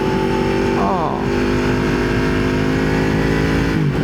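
A motorcycle cruises along a road with a steady, loud engine drone and wind rush, briefly shifting pitch as it changes gear near the start and again at the end.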